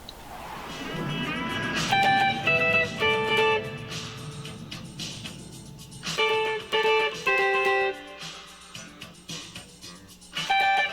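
Electric guitar chords of a song played in rhythmic bursts with pauses between phrases, bright and close, no talking.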